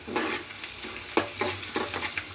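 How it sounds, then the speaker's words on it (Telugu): Spices being stirred in a hot cooking pan with light shah jeera, scraping strokes over a steady sizzle, close and distinct with no voices. "ఒకసారి కలిపిస్తా."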